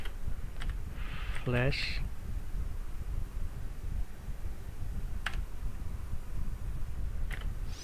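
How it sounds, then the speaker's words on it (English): A few sharp key clicks from a computer keyboard as a fastboot command is typed, sparse and close, heard under a man's speech. "over here you're going to type fastboot"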